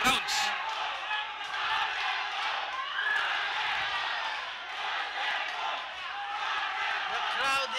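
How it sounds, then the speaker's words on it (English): A boxing arena crowd roars and chants during a fight between Carl James Martin and Ronnie Baldonado, a sustained wall of voices that swells and dips for several seconds and holds steady at a distance. "The crowd is chanting Wonder Boy"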